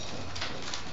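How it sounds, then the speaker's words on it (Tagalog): Pigeon-like birds coo softly in a short burst, close by, over a steady background hum. "Mga ibon."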